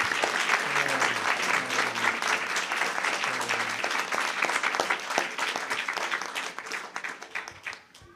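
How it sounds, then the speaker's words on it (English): An audience at a birthday celebration applauds, dense steady clapping that tapers off toward the end, with a few faint voices mixed in. "Can we please give them another round of applause?"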